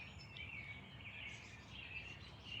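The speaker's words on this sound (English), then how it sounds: "Can you guys hear the birds?" Birds sing outside while the listener stays indoors in a studio, their faint, high chirps and tweets repeating through a quiet room with no talking.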